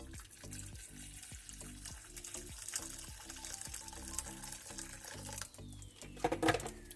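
Boiling water is poured into a small pot on a kitchen counter, a steady liquid rush and splatter lasting several seconds at moderate loudness, with faint clatter near the end.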